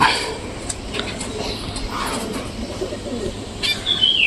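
A pigeon takes off with a brief flutter of wings among scattered bird chirps and cooing, set against steady outdoor background noise.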